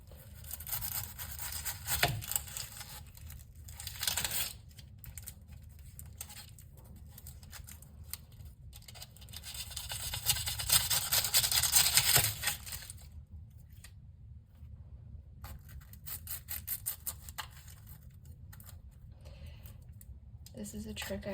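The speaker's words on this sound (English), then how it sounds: "take your large sweet onion and cut it up into rings" A knife slicing through a large sweet onion into rings on a board, crisp cutting strokes and scrapes repeating close by, with occasional louder chops and some talking at points.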